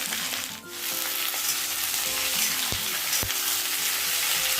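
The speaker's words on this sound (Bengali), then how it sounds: "আমি একটু গরম তেলে পেঁয়াজ আর ফোড়নে 5 ফোড়ন, তার সাথে সমস্ত সবজি দিয়ে দেবো, দিয়ে একে একে ভেজে নেবো।" Onion, five-spice seeds and mixed vegetables for jackfruit chorchori frying in hot oil, a loud dense sizzle with a few sharp utensil knocks, close up and without speech.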